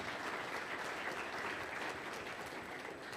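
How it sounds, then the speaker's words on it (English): Steady applause from a business event audience clapping for panelists, a dense, even wash of many hands sustained throughout at a moderate distance. "please, a big hand of applause for my panelists"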